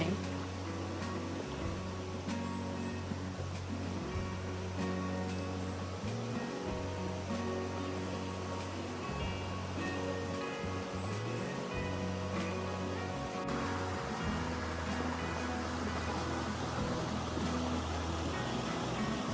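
River water rushes steadily beside a narrow campsite plot at a camping ground in Rancabali, Ciwidey, a continuous broadband flow holding even throughout, with a low droning hum running underneath and no talk.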